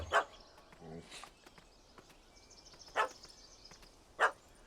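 In The Witcher 3, a dog barks at a cat up a tree, three short, distant barks spaced well apart over quiet outdoor ambience with faint birdsong, with no talking.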